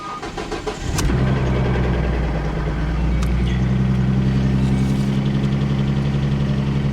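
A damaged salvage car with blown seatbelt pre-tensioners and both airbags deployed cranks and fires up after about a second, then settles into a steady, loud, close idle that runs on alone.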